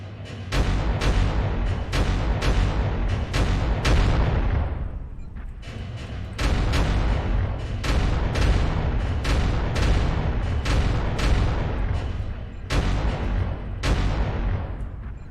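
LRM missile volleys fire from a Fafnir FNR-5E mech in MechWarrior Online: rapid strings of sharp launch thumps in several bursts with short pauses between, loud and close over a low rumbling background.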